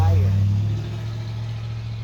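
A loud car engine rumbles close by with a steady low drone that eases slightly after the first moment, a voice briefly audible at the start.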